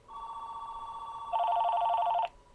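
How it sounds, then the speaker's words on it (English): A Bluetooth phone concealed in a briefcase rings with a steady electronic trill that shifts to a higher, warbling tone partway through before cutting off, fairly faint with no talking. "That phone should ring."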